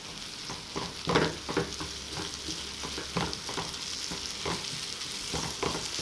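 A pan sautés ingredients for macaroni béchamel, a quiet steady sizzle with repeated scraping stirs at a regular pace.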